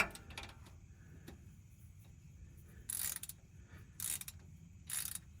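A ratchet works on the front differential plug of a 2016 Jeep Wrangler, with three short clicking bursts spaced about a second apart over a quiet background.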